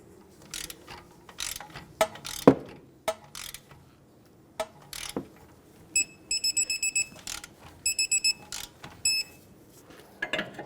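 A ratchet tightens the tie rod mounting nut on a 2008-2020 Dodge Grand Caravan, giving sharp close clicks in short bursts with pauses between them and metallic knocks.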